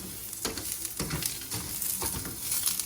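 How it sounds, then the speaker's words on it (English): Steady sizzling of sliced onion frying in a pan, with soft stirring scrapes recurring at a slow, even rhythm, close by. "So that onion's been frying for about a minute or 2."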